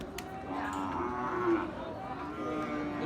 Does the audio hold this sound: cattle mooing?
yes